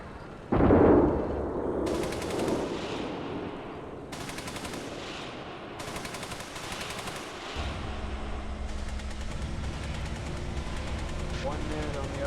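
Gunfire in a military video game: a heavy blast followed by sustained bursts of automatic fire and booming shots, with a steady engine-like rumble underneath and people talking over it.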